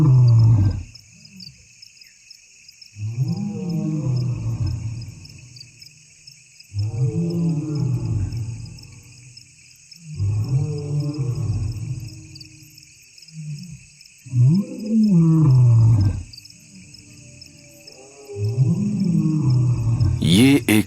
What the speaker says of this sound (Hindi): शोरगुल को सुनकर दोनों भाई दहाड़ लगाते हैं।